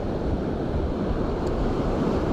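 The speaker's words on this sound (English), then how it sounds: "some of these waves have got a bit bigger just recently." Sea waves break on the shore at a bass fishing spot in May, a steady loud rush of surf with constant wind noise across the microphone and no clear breaks between swells.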